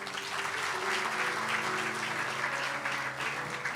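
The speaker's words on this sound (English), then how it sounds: "I want you to give the group a round of applause." An audience at a Gyaan Yajna religious gathering claps steadily for a singing group, a continuous moderately loud round of applause with faint musical tones lingering beneath.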